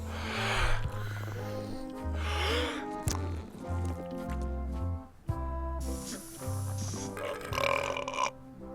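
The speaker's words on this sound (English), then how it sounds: "I'm hoping this will help make our burp bigger" Guybrush lets out a series of burps in the adventure game Return to Monkey Island: several loud, drawn-out belches with short gaps between them, set against game music.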